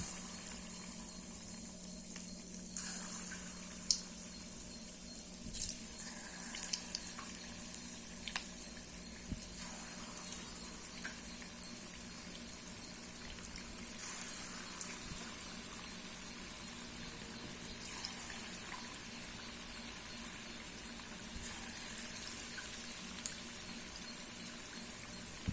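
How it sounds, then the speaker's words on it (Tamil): Bonda batter dropped in small portions into hot oil in a kadai, frying with a soft continuous sizzle and bubbling at low level, steady throughout with occasional faint clicks. "கடாயில் ஆயில் ஊற்றி வச்சுருக்கேன். இப்போ இந்த மாவு எடுத்து நம்ம குட்டி குட்டியாக போட்டுக்கலாம்."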